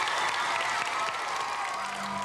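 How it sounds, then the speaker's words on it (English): An audience at a school recognition event for a Blue Ribbon flag of excellence applauds, giving continuous, even clapping from many hands throughout, steady and moderately loud. "let's give all of us a round of applause for this achievement"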